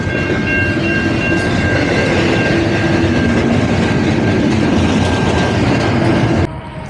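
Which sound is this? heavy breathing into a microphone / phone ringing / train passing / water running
train passing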